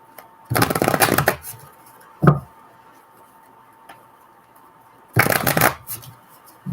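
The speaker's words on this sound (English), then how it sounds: "I'll shuffle the cards like that to get like my energy out." Tarot cards shuffled by hand in two bursts of riffling, with a single soft tap between them, close and clear in a quiet room.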